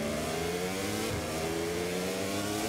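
Race motorcycle engine in MotoGP 24 holding a steady high whine and pulling harder under throttle, the revving drone sustained and close throughout with no break.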